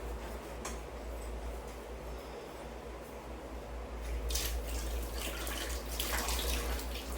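A kitchen tap runs steadily while hands are washed during tomato pickle making, a continuous close splashing hiss that grows louder and more turbulent partway through.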